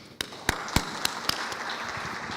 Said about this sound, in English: please join me to express our thanks with clapping, applauding.